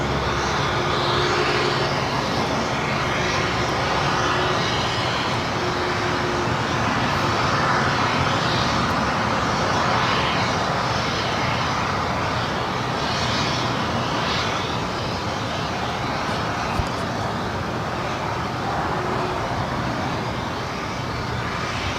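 Virgin Atlantic Boeing 787-9 Dreamliner crossing runway 25 right at LAX toward the Tom Bradley gates, its engines a steady broad roar that holds at even loudness throughout.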